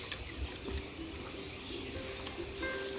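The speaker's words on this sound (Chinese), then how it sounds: "醒来的时候开始变鸟的声音" Morning birdsong outside a campervan in the Taiwanese mountains: faint, distant chirps and a brief brighter trill against quiet background hiss, no talking.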